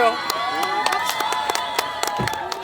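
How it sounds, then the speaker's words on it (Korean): A crowd at an outdoor event welcoming the Japanese prime minister in Andong claps and cheers, with sharp scattered hand claps over a steady roar of voices and children's shouts. "박수 한번 주세요."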